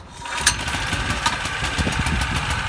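A small pull-start engine, likely on a pressure washer, runs steadily at a fast idle while warming up. A sharp click comes near the start, then it settles into a continuous close, loud chugging hum with rapid regular pulses and no talking.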